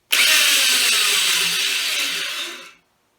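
A power drill hones the cylinder bores of a 2010 Ford Taurus SHO engine block at home, giving one loud, bright whirring run of about two and a half seconds before stopping abruptly.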